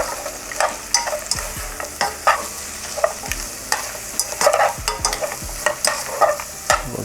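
Carrots and mushrooms sizzle and crackle in a hot pan while a utensil scrapes and stirs them in repeated strokes, close up.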